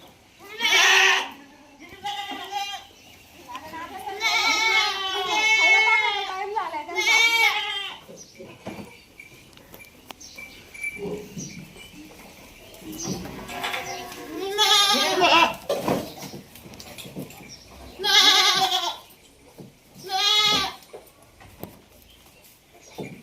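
Several goats in a fully enclosed goat shed bleat repeatedly at feeding time, loud, close calls in bursts overlapping one another, with rustling and a voice now and then between them.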